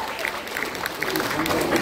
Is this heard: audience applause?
yes